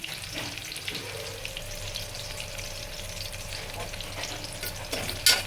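Mustard seeds and fenugreek frying in a pan over a low flame, a steady close sizzle with faint crackles and occasional scraping from stirring, with no voices.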